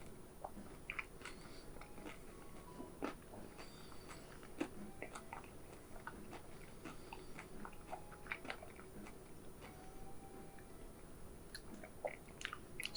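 Close chewing of a Paqui One Chip Challenge tortilla chip from 2022, a continuous faint crunching and mashing with small sharp crackles scattered throughout, no voices.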